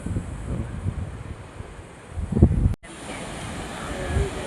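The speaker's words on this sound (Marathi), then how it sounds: "हा आहे ग्वागरचा समुद्र" Wind and surf along the long sandy shore at Guhagar beach in Maharashtra, a steady broadband rush with low rumbling gusts, briefly cut out midway, with no clear voices.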